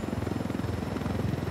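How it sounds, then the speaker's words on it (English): A helicopter in the video game Ghost Recon Wildlands gives a steady, rapid rotor thump with droning engine, close and continuous with no talking. "And we take the helicopter over here."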